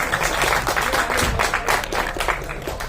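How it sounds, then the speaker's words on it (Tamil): Audience clapping for a film distributor called onto the stage at a film press event. The applause is steady and fairly loud, with sharp individual claps standing out from the crowd. "ஜெனிஸ்க்கு தான் கைத்தட்டல் அதிகமாக இருக்கு"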